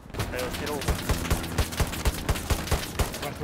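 Rapid bursts of gunfire crack in a fast, steady rhythm, loud and punchy, like automatic weapons firing in the game Hell Let Loose.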